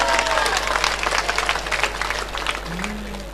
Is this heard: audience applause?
yes